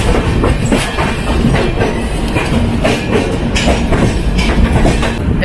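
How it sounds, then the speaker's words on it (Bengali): A long-distance train just pulling out of New Delhi station rumbles loudly from inside a passenger coach, with a steady, rhythmic clickety-clack of wheels over rail joints throughout. "আমাদের ট্রেনটা কিন্তু এইমাত্র নিউ দিল্লি স্টেশন থেকে ছেড়ে দিয়েছে"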